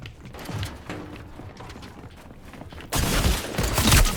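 Sharp burst of gunfire in a PlayStation shooter game, a sudden loud crack and clatter near the end following quieter mechanical clicking.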